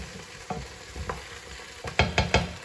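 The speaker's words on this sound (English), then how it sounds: "A little stir." Vegetables and a big unpeeled garlic clove are stirred in a pan for gravy, with a faint sizzle underneath and a few soft scrapes building to three sharper knocks at the end.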